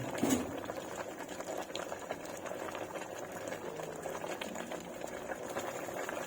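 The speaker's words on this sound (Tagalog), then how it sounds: "Ayan, kulong-kulo na siya" A pot of vegetables boils with a steady bubbling, rumbling sound, dense and continuous, with a brief louder burst near the start.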